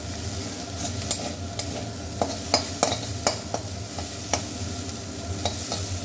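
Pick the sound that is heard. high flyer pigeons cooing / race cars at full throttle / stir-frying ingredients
stir-frying ingredients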